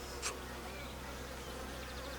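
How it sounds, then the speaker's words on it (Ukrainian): Honey bees hum around an open alpine hive with capped brood frames. The soft, continuous drone is briefly punctuated early on by one louder buzz as a bee passes close. "Тут теж бджіл достатньо."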